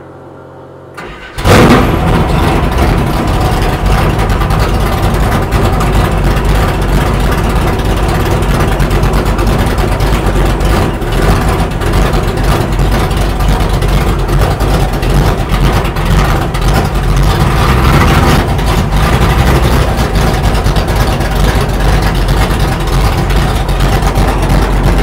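A 1969 Baccaruda boat engine cranks and catches, then settles into a loud, steady rumbling idle that runs on without pause.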